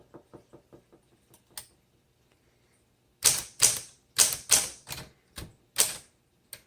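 Keys clack on a 1936 Corona Sterling flat top typewriter, first as a quick run of light taps, then after a pause as a series of loud, sharp, evenly spaced strikes up close.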